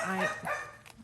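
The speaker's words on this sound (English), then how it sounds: "I'm so sorry about my dogs, guys." A dog gives a couple of short, close barks in quick succession, with a small yip trailing at the end.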